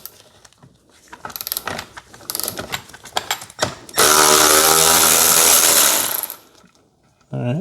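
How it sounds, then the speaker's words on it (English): Power tool loosening a T50 seat bolt on a BMW 340i, a steady loud whir lasting about two seconds after some clattering handling, then stopping. "first step is the bolt. Let's get this off. It's a T50."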